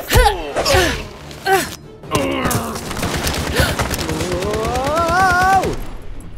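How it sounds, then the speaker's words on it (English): Gunfire in a video game scene with voiced characters, a rapid string of loud shots and thuds mixed with strained vocal effort and groaning, ending in a long rising tone before falling quiet. "that's what shooting a gun is like."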